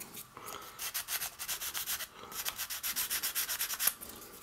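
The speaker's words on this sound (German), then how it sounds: "die werde ich jetzt mal schleifen" Two-component filler on a Millennium Falcon model part being sanded by hand, a steady series of short rhythmic rubbing strokes, close and fairly quiet, with no voices.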